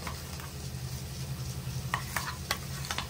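Ivy gourd masala being stirred in a frying pan, with steady close sizzling and a few scraping spoon strokes against the pan, heard alone.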